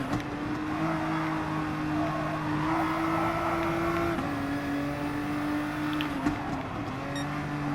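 Nissan GT-R race car engine in Gran Turismo Sport at Mount Panorama, a steady high-revving drone held through the run, with pitch shifts at gear changes and no talk over it.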